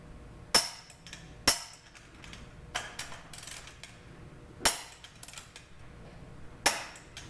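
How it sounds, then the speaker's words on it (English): A torque wrench clicks while tightening wheel lug nuts on a car, giving four sharp, isolated metallic clicks spaced a second or more apart, close and clear, with faint ratcheting and handling sounds between them and no talk. "This is a perfect example of why you torque with a wrench."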